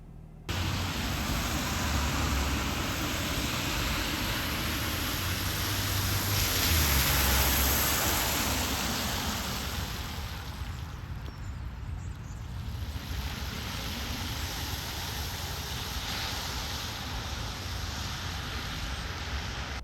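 A 2022 Polestar 2 Long Range single-motor, front-wheel-drive electric car is on the move, with a steady broadband rush of road and wind noise inside the cabin that swells slightly midway and carries no talk.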